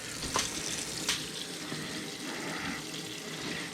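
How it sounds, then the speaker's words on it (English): Warm tap water running steadily over raw chicken in a kitchen sink, a continuous close splashing stream with a couple of brief clinks, no talking. "I need to add some warm water to that."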